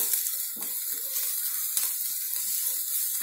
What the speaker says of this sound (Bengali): খোসার সঙ্গে মিশিয়ে ভালো করে ভেজে নিতে হবে